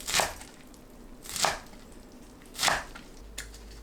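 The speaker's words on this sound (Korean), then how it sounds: "너무 길지 않게 잘라줍니다." Hijiki seaweed stems cut with a knife on a board, three firm, evenly spaced chops about a second apart plus a lighter fourth tap, close and clear with no talking.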